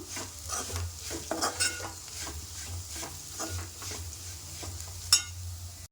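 Sliced ivy gourd frying with red chili powder in a pan, stirred in a run of soft, repeated scraping strokes over a faint, low sizzle, with one sharper clink near the end.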